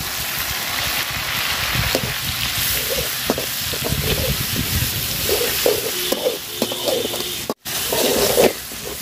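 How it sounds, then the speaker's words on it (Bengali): Garlic paste fries with browned onions in a pan over a loud, continuous hiss, with scattered utensil scrapes and clicks toward the end and a brief cut near the close. "তো রসুন বাটা দিয়ে দিলাম"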